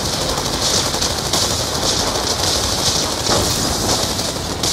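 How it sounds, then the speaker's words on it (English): Gunfire in Call of Duty Black Ops II sounds as a dense, continuous rattle of machine-gun bursts, loud and unbroken, over a constant hissing, noisy background. "Bravo receiving effective enemy fire."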